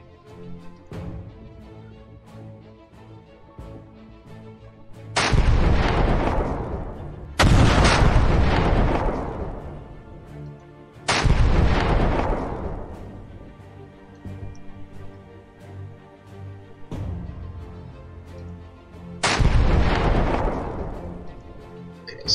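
Armed units in the video game Command: Modern Operations fire cannons in five loud, booming blasts, each decaying slowly, spaced a few seconds apart.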